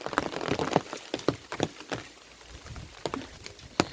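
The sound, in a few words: rain falling on a village farm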